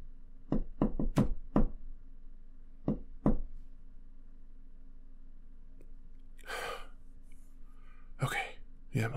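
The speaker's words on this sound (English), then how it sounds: "You ever heard of the shave and haircut knock?" A rhythmic knock sounds on a door in an ASMR roleplay, a cluster of close, sharp raps in the shave-and-haircut pattern followed by two separate knocks, then breathy sighs from a nearby voice.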